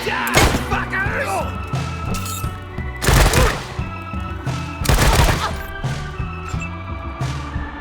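Gunfire in the Wasteland 3 video game comes as repeated loud bursts and volleys over a sung hymn-like music track, with several heavy shots clustered about two seconds apart.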